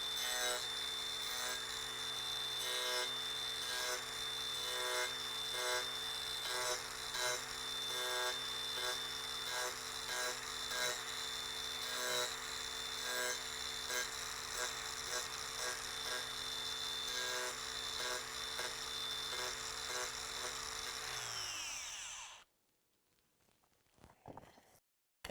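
An angle grinder shapes wooden parts for a Bali chair, holding a loud, steady high whine with a rough abrasive edge for about 22 seconds before cutting off abruptly, followed by a few faint handling knocks.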